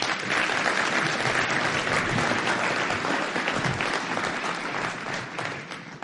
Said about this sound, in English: Give them a round of applause for me out my show.